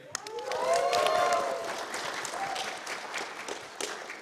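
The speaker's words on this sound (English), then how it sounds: "Everybody cheer." A convention crowd at a drag panel claps and cheers, a fairly dense round of applause with whoops that swells early and then tapers to a steadier patter.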